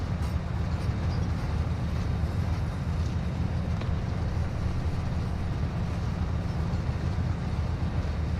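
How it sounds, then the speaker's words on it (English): A moving train in the video game DMZ rumbles steadily throughout, a dense low continuous roar with no breaks and no clear voices over it. "I think I'm on the same train as them."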